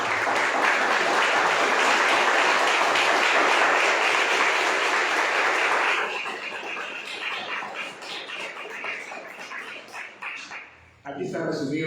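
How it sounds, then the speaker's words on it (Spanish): Church congregation clapping in praise, a dense roar of applause that drops midway into thinner, lingering clapping with voices talking over it before fading out. "Pero un aplauso al Señor."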